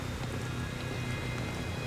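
Rain falling in the video game Splinter Cell Pandora Tomorrow, a steady soft hiss of rainfall, continuous and even throughout, with no voices.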